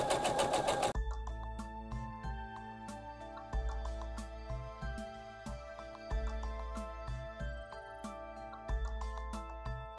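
Sewing machine stitching a quarter-inch seam in quilt fabric, a steady close mechanical whir and hum running continuously with brief dips and restarts, preceded by a short loud burst at the start.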